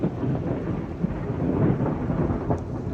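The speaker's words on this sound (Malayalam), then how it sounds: "ഇടിവാള് ഗൈസ്, മഴ പെയ്യുന്നുണ്ട്," Thunder rumbles low and steady through rain on a hillside, a continuous dull roll with the downpour hissing beneath it and no voices.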